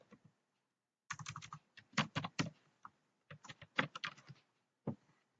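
Someone types a username and password on a computer keyboard in quick clustered bursts of keystrokes with short pauses, close and fairly quiet, with no talk.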